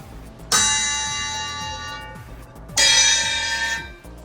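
Two bright metallic strikes on drum-kit cymbal bells, each ringing out with a long shimmering sustain before fading, close and fairly loud.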